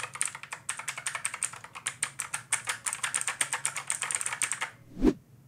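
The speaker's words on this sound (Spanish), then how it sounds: "hablemos de los switches de este teclado mecánico" Fast, steady clatter of a cheap mechanical keyboard's keys, loud and close, continuing for several seconds before stopping with one heavier thump.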